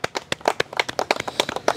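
A small group of students claps in a loose, uneven burst of separate sharp hand claps, close by and fairly loud, with no voices over them.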